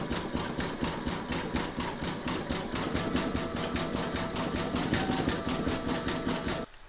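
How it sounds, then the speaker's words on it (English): An embroidery sewing machine runs a satin stitch around the edges of an Easter chick design, giving a steady, fast mechanical stitching rhythm that stays close and even throughout before stopping abruptly at the end. "you're going to stitch round number 10, and that's going to do the satin stitch on both edges of the chick."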